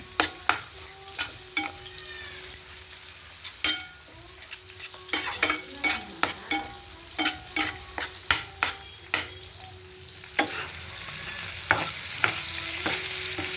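Vegetables frying with salt, turmeric and chili powder, a soft sizzle under a run of sharp metal spatula clinks and scrapes against the pan at an uneven, fairly quick rhythm, close up and with no speech.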